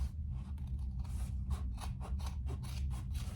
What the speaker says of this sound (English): she does tell you to trim your gusset. So I will do that just a little.